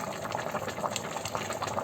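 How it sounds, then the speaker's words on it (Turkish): A pot of Turkish eggplant and minced meat stew bubbling and simmering steadily over low heat, soft popping bursts over a low continuous hiss, close and fairly quiet. "Kıymalı patlıcan yemeğimiz 45 dakikadır bu şekilde kaynıyor."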